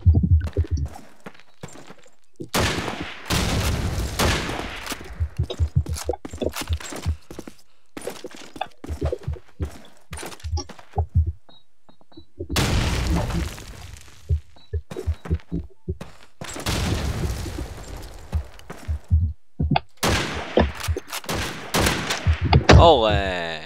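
Gunfire in the World War II shooter Call of Duty 2 breaks out in repeated clusters of sharp bursts, separated by short quiet gaps, with voices sometimes heard between the volleys.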